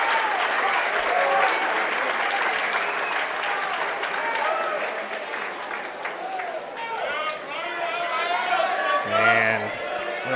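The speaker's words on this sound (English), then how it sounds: "Great crowd appreciation for that effort." Crowd applause fills a natatorium at the 2017 IHSA boys swimming and diving state finals, sustained cheering and clapping through the whole stretch, with an announcer's voice and whistle-like tones mixed in near the end.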